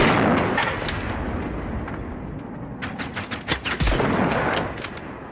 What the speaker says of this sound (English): that explosion got the other one, too